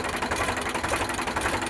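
A used Eicher 368 tractor with a Super DI engine runs at idle, giving a steady, even mechanical rumble with a fine rapid beat that stays at the same level throughout, with no voices over it.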